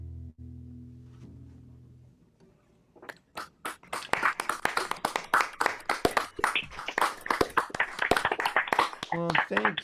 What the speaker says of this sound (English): the ones where we actually get to hear applause